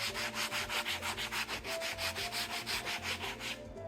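Medium coarse grit sandpaper rubs back and forth over a wooden settee in a steady, rhythmic series of close scratchy strokes, about four per second, with no talk.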